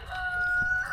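Bug-eating chickens call close by in a short burst, a sustained crowing or clucking tone over a low, busy background.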